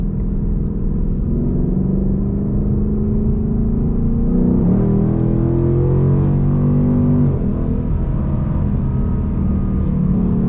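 A Ford Mustang GT with a 10-speed automatic heads onto the highway, its engine droning steadily up close with a low rumble and rising, shifting tones as it accelerates, with no talking.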